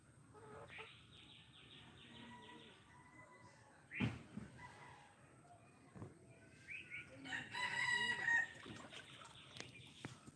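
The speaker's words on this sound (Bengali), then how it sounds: "দেখেন মুরগি কত উপরে উঠছে দেখেন" Chickens cluck and a rooster crows at moderate distance outdoors in floodwater, the calls rising and falling over a quiet background, with a brief bump and some faint voices.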